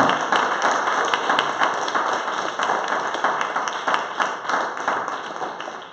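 Congregation members at Mt. Olive House of Prayer clap their hands together through a live church service, a continuous crowd of sharp, rhythmic claps that stays loud and close, with a voice faintly present underneath.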